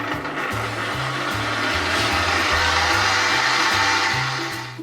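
An electric mixer whirs steadily while beating cake batter mixed with beer, a loud continuous motor drone that lasts the whole stretch and fades slightly at the very end.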